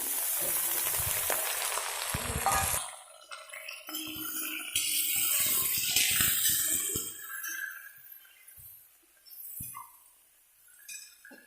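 Chicken meat sizzles and fries with onions in a pan for an Assamese-style chicken curry, a loud steady hiss at first that eases off, with scraping stirs and occasional clinks of a utensil against the pan.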